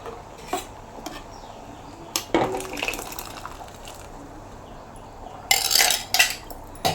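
A spoon clinks and scrapes in a pot as ground paste is mixed into pineapple pulissery, with a few sharp metallic knocks and a louder clattering burst near the end, close and without talk.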